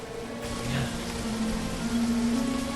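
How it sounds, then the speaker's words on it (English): Continuous rainfall in the horror game Remothered: Tormented Fathers, a broad steady patter with faint tonal ambience droning beneath it. "I'm just sitting here in the rain."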